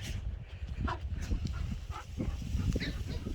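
Several dogs in quarantine kennels at an animal shelter's dog run bark and whimper close by in quick, overlapping bursts, with a yelp or two mixed into the chorus.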